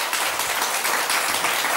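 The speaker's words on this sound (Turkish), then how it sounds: "Alkışlarla alalım genç kardeşimizi efendim." An audience applauds steadily and loudly throughout, a dense wash of clapping welcoming a young performer onto a stage.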